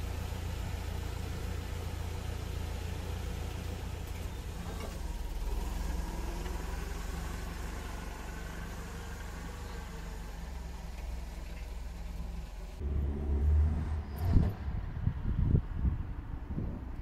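A Mercedes W201/W124 car engine runs steadily at idle with a low rumble, then grows louder and rougher near the end as the car seems to be lowered and moved, with wind buffeting the microphone.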